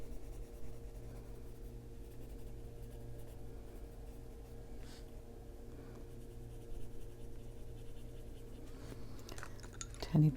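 A burnt sienna colored pencil scratches steadily across paper, shading rocks on a Winnie the Pooh coloring page, with close, quiet, continuous strokes and a few sharper taps.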